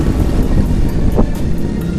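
A silver Vespa Sprint scooter being ridden, its engine droning steadily with heavy wind buffeting the microphone throughout, no talk over it.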